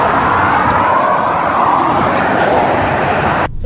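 A car drives along a road in a steady, loud rumble of engine and tyre roar seemingly heard from inside, cutting off abruptly at the end.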